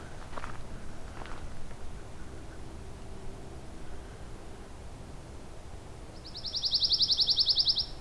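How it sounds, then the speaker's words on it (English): A pine warbler sings from directly overhead outdoors, one fast even trill of rapid repeated notes near the end, clear and fairly loud over quiet ambient background and a few faint rustles earlier. "Got a pine warbler right above me now."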